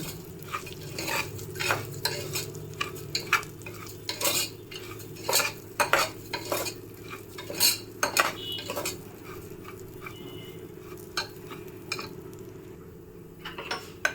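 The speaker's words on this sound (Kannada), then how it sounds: "ಗೋಧಿ ನುಚ್ಚು ಹಾಕ್ಕೊಂಡು ಈ ತುಪ್ಪದಲ್ಲೇ ಚೆನ್ನಾಗಿ ಹುರ್ಕೊಳ್ಳೋಣ" Broken wheat roasts in ghee for a payasam while a spoon scrapes and clatters against the pan in steady, irregular strokes, with a faint sizzle beneath and no talking.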